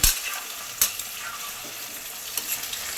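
Chicken pieces frying in oil for an old-style chicken pickle hiss steadily, with a few sharp spatters or utensil knocks, strongest at the start.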